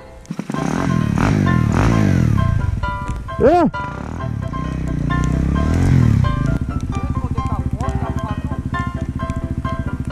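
A motorcycle engine is revved with the throttle, rising and falling in pitch before it settles into a steady, throbbing idle near the microphone, while people talk loudly over it.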